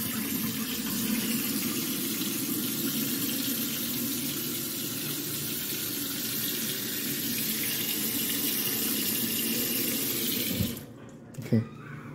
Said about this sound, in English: The water goes down, no problem.